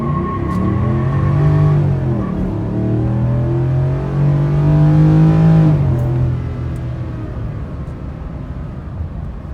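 A tuned 2018 Ford F-150 with the 5.0 V8 pulls hard with traction control off, its loud engine note rising steadily, dipping at a firm upshift, then climbing again before easing off near the end.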